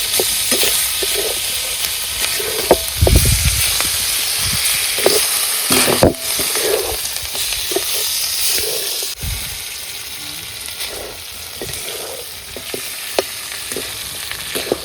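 Mutton coated in masala fries on a hot griddle with a continuous strong sizzle and hiss, marked by several louder scrapes and stirs, close up, with no speech over it.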